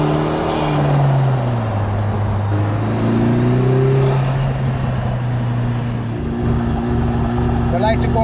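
A Lotus Emira I4 engine roars hard under launch-control acceleration, the pitch sliding upward through gear changes, loud and close with wind and road noise throughout.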